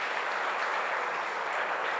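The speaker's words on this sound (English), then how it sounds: "Big round of applause." Audience applause following a thematic address on AI at an ICSET 2023 conference, a steady, dense wash of clapping that holds at even loudness throughout, with no voices on top.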